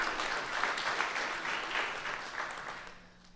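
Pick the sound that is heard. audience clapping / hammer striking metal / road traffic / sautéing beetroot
audience clapping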